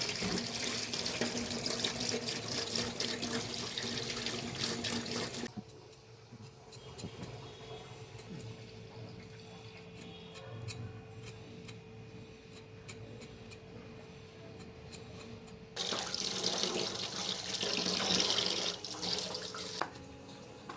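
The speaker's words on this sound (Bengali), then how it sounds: "আলুগুলো এভাবে ছিলে ধুয়ে নিচ্ছি" Running tap water splashes into a sink while peeled potatoes are rinsed, a steady close hiss for about five seconds, then a long quiet stretch before the flow starts again near the end.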